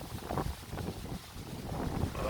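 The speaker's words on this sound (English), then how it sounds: "Oh, so windy today." Gusts of wind rumble and buffet outdoors in a vegetable garden, a steady blustery roar that rises and falls, moderately quiet with no voices.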